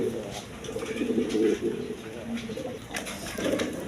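Pigeons, including two Danish males in tiger and red colours, coo in low, throaty, overlapping calls close by, fairly loud and continuous throughout.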